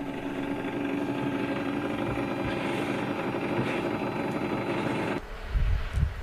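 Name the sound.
aerial refueling tanker aircraft in flight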